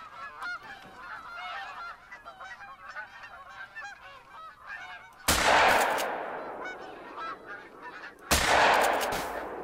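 Geese honk repeatedly in theHunter: Call of the Wild, a noisy overlapping flock, cut twice by loud gunshots that boom and fade.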